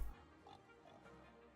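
Pigs oinking in the city-building game Cities: Skylines on a farm park with cows and sheep, a short grunt at the start followed by faint, low snorting under a steady ambient bed.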